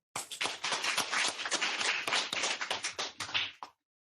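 Applause at a Birmingham Law Society meeting, a few nearby hands clapping in a quick, uneven patter that stops abruptly, with silence after.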